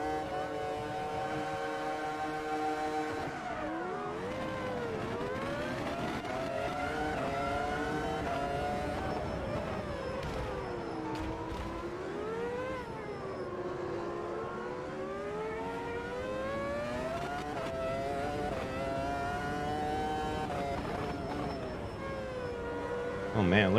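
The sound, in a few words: Formula V10 race cars accelerating at Montreal, Automobilista 2 video game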